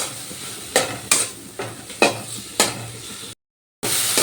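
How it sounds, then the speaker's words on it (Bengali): Turmeric and chili powder stir-fried in a pan for a mung dal with grated coconut: a soft sizzle under five or six sharp spatula scrapes at an uneven rhythm, with a short dead gap near the end. "এবার আমি সব কিছু ভালো করে কষিয়ে নেব"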